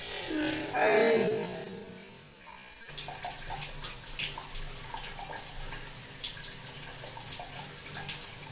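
Water runs from a tap fed by an instant water heater, first as a louder, uneven splashing gush, then settling into a steady, softer hiss of flowing water.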